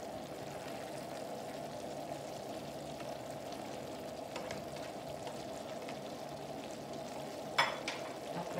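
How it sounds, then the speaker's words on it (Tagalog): Pinakbet vegetables are stirred in a frying pan over a steady sizzle, with soft scraping and occasional clatter of the utensil and one sharper knock near the end, with no talking. "haluin lang ng haluin"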